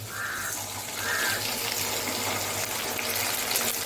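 A small amount of water pours into a frying pan of nearly fried potatoes and papaya, producing a steady, rushing gush that lasts a few seconds.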